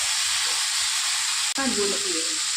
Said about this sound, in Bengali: মামনি সবজিগুলো একটু লাল করে ভেজে নিল